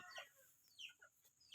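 Free-range village chickens raised traditionally, clucking in short scattered calls near and fairly faint, with a louder burst at the end.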